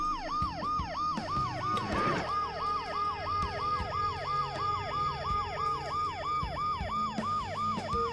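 A wailing ambulance siren in a point-and-click adventure game, looping continuously with steady rising and falling sweeps, loud and close, with no talk over it.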